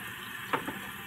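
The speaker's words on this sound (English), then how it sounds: "I'm going to have a cold rinse" Tap water runs for a cold rinse after a shave: a steady, soft, broadband rush heard alone, with a couple of faint splashes near the middle.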